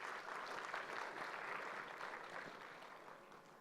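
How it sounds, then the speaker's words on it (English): Audience applause at a finance and accounting forum for the AI committee, a steady, dense patter of many hands clapping, fairly distant and even throughout, gradually easing toward the end. "A big round of applause for our AI committee here."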